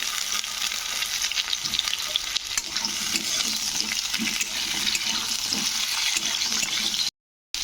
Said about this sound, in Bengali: হালকা লালচে করে ভেজে নিয়েছি আমি আলু আর ডাটাটা